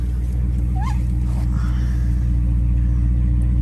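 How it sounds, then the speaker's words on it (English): A 2018 Dodge Charger R/T 392 Daytona sits idling with a loud exhaust. It makes a steady, deep, droning rumble heard close up from inside the car, with no revving. "The exhaust for this car is quite loud."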